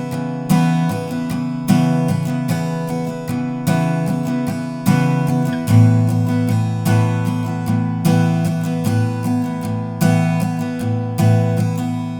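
Guitar strums the opening chord line of the Foo Fighters' Best Of You in a steady down-down-up pattern. The chords ring loud and clear, changing every bar or so, with no voice over them.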